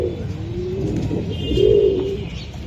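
Racing pigeons coo in a low, throaty, rolling pattern that swells near the middle, close and fairly loud, with faint chirps from other birds in the background and no talking.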